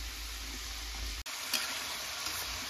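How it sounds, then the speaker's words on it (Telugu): Gorumitilu, jaggery and sugar sweets, frying in oil while being stirred and turned, a steady close sizzle with a brief dropout and small crackles. "ఇలా మధ్య మధ్యలో కలుపుకుంటూ టర్న్ చేసుకుంటూ ఫ్రై చేసుకోండి."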